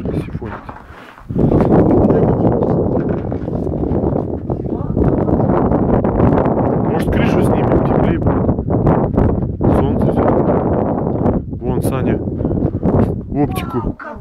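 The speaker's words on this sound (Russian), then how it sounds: "Блин, ветер сифонит." Wind buffets the microphone in loud, low rumbling gusts at an outdoor shooting range, with people talking underneath.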